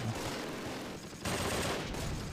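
MG42 machine guns in the Close Combat war game, set at Arnhem, fire a dense, continuous rattling barrage. It dips briefly partway through, then surges back louder, with no voices.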